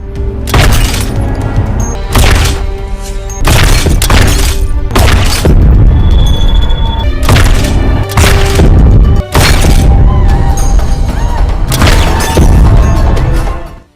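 Loud sniper rifle shots from a gangster action film ring out one after another, each sharp blast followed by a short gap, about eight heavy reports echoing with crashing impacts.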